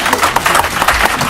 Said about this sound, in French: Est-ce que vous pouvez applaudir pour Masta?